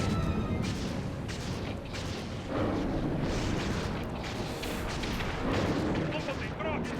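Dense, continuous gunfire and booming blasts roll on without pause in the video game Sly 3: Honor Among Thieves, loud and crowded with overlapping shots.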